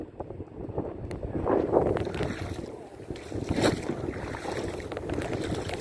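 Gusty wind buffets the microphone in uneven surges, rising and falling, with water and a few faint knocks in the background.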